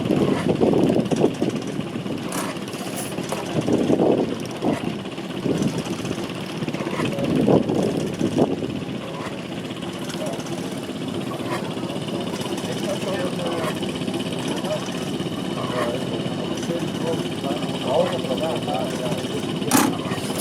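A rare antique Brantford oil engine, a hot-bulb or bronze-fitted internal combustion engine, chugs through a cold startup with steady low rumbling and irregular bursts, loud and close, continuing for the whole stretch.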